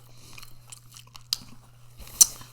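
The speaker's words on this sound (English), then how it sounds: "That chicken skin's just fat. I can't hardly chew it." Close-miked chewing of fatty chicken skin gives wet bites and crunches over a low hum, with two sharper snaps, the louder one near the end.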